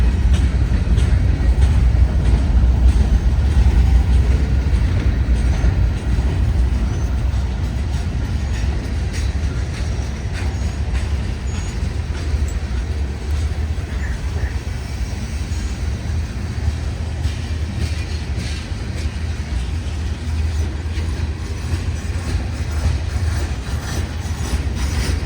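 Two UP and BNSF freight trains rumble past together, a loud, steady low roar of rolling cars with faint rail clatter that holds evenly throughout.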